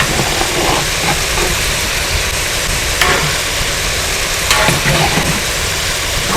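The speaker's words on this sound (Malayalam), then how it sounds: "വലിയുള്ളി ഇതിലിടാം." Onions sizzling in a hot pan for chicken biryani, a steady loud close frying hiss with faint stirring clinks and no talking.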